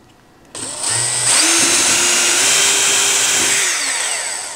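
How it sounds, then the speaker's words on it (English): Power drill boring 3 mm holes for mounting screws, a sharp whine that starts abruptly, spins up to a steady high pitch close by and tapers off at the end. "I've got a 3 millimeter drill here."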